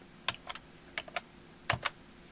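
Keys pressed on a Timex Computer 2048, a ZX Spectrum clone with a full-size space bar: six sharp, separate clicks in loose pairs, close and clear over a quiet background hum, with no speech.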